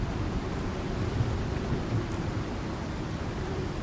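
Thunderstorm in the open-world crafting game Icarus, a dense steady wash of heavy rain with a low rumbling thunder undertone, continuous and fairly loud with no talk.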